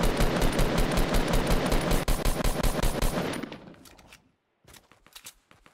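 Rapid automatic gunfire rattles in Fortnite Battle Royale, a dense burst of fast shots for about three seconds that trails off, then a few scattered, fainter shots after a brief silence.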